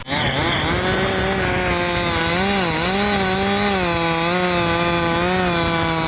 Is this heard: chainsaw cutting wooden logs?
yes